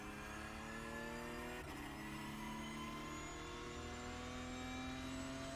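A Porsche Cup race car accelerates hard at Spa-Francorchamps in iRacing, its engine note climbing steadily in pitch, with a brief shift or kerb jolt early on, loud and continuous.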